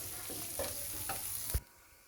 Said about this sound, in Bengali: আমি এখন কানলাগুলোর উপরে আর যে গিলাগুলো ছিল ইলিশ মাছের সেগুলো ভেজে নিচ্ছি।